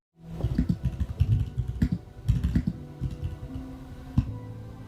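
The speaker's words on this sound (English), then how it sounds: "the occasional typing of a keyboard in the background" Keys on a computer keyboard clack in quick, uneven bursts, close and fairly loud, during a Forsaken game stream, with no one talking.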